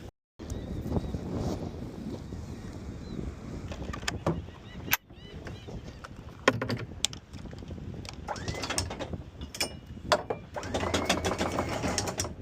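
An anchor chain is hauled up aboard a sailing boat in open water between Bonaire and Curacao, giving a continuous mechanical rattling and clanking with sharp metallic knocks over wind noise.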